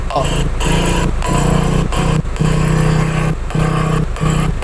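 A small motorcycle engine with an open muffler runs loudly up close, its buzzing drone cutting out briefly several times between revs.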